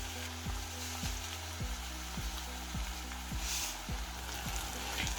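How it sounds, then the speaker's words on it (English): Onions fry in a pan with a steady sizzling hiss and occasional stirring, moderately quiet, under a regular low mechanical hum, no voices. "give it a good mix"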